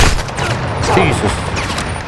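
Rapid gunfire in the video game Call of Duty: Modern Warfare II campaign, a dense loud burst of shots filling the moment with booming background noise.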